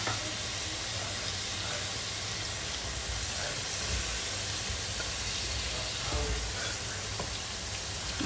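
Tomatoes added to a hot pan on the stove, giving a steady, loud, continuous hiss of sizzling that lasts throughout without pauses.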